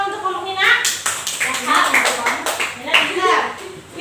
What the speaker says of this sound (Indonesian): Tepuk tangan untuk kelompok Nina.